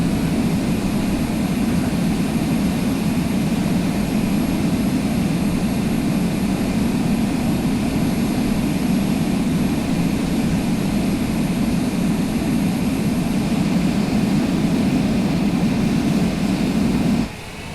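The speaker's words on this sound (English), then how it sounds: "Let's hit that reverse thrust." Airliner reverse thrust roars after touchdown in a flight simulator game on a landing at KJAC, a loud, steady engine rumble holding for about seventeen seconds before cutting off abruptly at the end.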